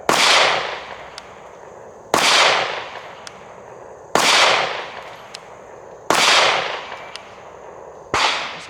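A handgun fires five loud, sharp shots at an even pace about two seconds apart, each with a ringing decay and quiet between them.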